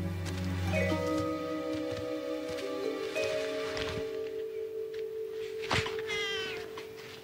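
Kittens in the wild Chernobyl zone meowing, a series of thin, wavering cries, some drawn out and one sharper call near the end, fairly close over soft rustling.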